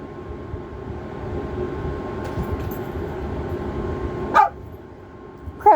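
An old dog barks twice at cats indoors, sharp, close barks spaced about a second apart over a low steady background rumble.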